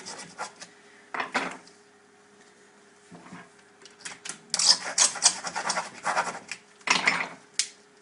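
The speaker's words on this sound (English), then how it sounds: "with the junior hacksaw, where we've marked the plastic, we just cut through like that" A junior hacksaw saws through a plastic shower screen seal in short, close rasping strokes. The bursts come in uneven groups over a quiet background and grow quicker and denser toward the end.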